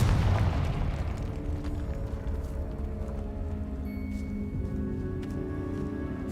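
In Hogwarts Legacy, a Confringo fire spell ends in a loud blast at the start that fades into a sustained fiery roar and rumble, with a few faint chimes and tones from the game over the lingering noise.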